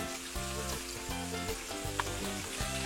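Pangas fish frying in a pan just after being flipped, a steady, close sizzle of hot oil with a faint scrape, set over a low droning background hum.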